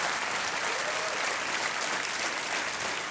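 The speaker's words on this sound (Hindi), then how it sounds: "तालियों के साथ इनका अभिनंदन" A studio audience on the TV quiz show Kaun Banega Crorepati, season 8, bursts into loud, sustained applause that fills the whole moment with dense, even clapping.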